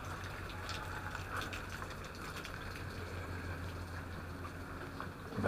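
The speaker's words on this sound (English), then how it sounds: "And the waterfall is growing." Continuous, faint splashing and trickling from a running garden waterfall on Madeira, heard alone at a steady level throughout.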